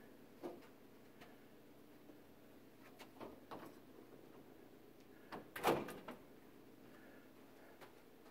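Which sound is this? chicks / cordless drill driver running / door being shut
door being shut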